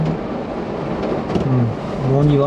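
Heavy rain pours down on a car, a dense, steady roaring wash with low rumble that swells slightly toward the end, with faint voice-like tones underneath.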